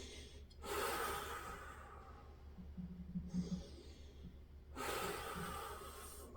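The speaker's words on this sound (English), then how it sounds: "2 nice deep breaths" Slow, deep breaths drawn in and let out during a golf core and leg flexibility workout: soft, close inhales and exhales with long pauses between them.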